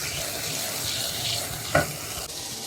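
Yogurt poured into masala frying for kofta curry brings a brief splashy hiss over a steady, loud pan sizzle.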